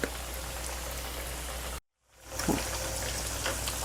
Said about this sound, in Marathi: छान क्रिस्पी होईपर्यंत दोन्ही बाजूनी आपल्याला ते तळून घ्यायचे